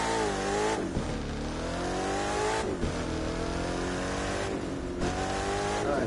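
Ford F-150 Raptor engine in the racing game The Crew 2, a loud, steady drone that climbs in pitch, drops sharply at each gear shift and climbs again, with no talk over it.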